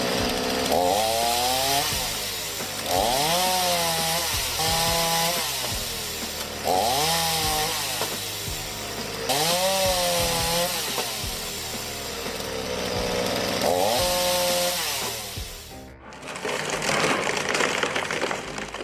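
An automatic homemade firewood processing machine with a throttle-triggered saw cuts logs, its engine roaring loudly and rising in bursts with each cut before a harsh, different grinding noise takes over at the end.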